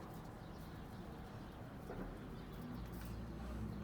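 Pigeons coo softly in a loft, a faint low murmur of calls repeating over a steady background hum with no talk.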